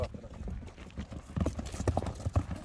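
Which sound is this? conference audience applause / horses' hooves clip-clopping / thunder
horses' hooves clip-clopping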